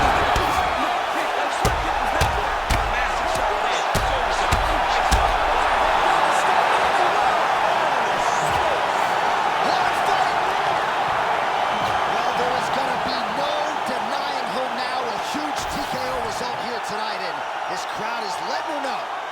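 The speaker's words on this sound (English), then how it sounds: "Crowd is letting her know." Arena crowd at a UFC title fight roaring steadily and loudly throughout, a dense wash of cheering with occasional thumps, while commentators talk over it.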